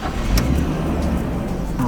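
An R32 Skyline GTS-T Type M with an AEM E85 fuel pump fires up and settles into a rough idle, a loud low rumble that holds steady throughout the short moment.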